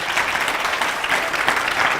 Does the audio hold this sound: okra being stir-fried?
no